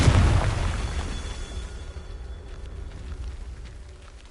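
In Hogwarts Legacy, a Confringo spell sets off an explosion: a loud, deep blast right at the start that slowly rumbles and fades away.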